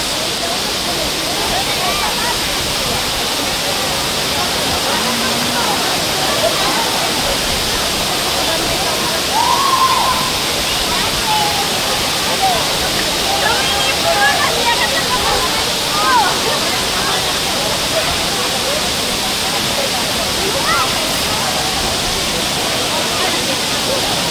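A waterfall roars steadily with a dense, loud, unbroken rush of falling water at an outdoor falls. Faint voices may be mixed into the constant noise.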